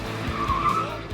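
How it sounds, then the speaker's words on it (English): Car skidding with a sharp tire squeal and a short burst of engine and rumble, loud and close as it hits the camera, all within about a second. "The car just hits the camera like that"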